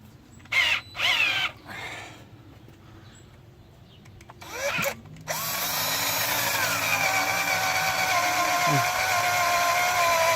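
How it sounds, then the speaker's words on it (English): A few short whirring bursts and brief talk, then a power drill runs loud and steady for the rest of the clip, close by, drilling out a broken valve cover bolt on a 2002 Honda Accord. "Oh, I gotta tighten my drill."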